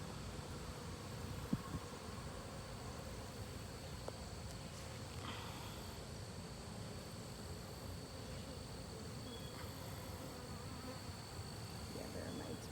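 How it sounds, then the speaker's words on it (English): A steady, dense buzzing of many bees in a hive with newly hatching male bees fills the space, constant and close, with no one talking. "Those are male bees that are just hatching."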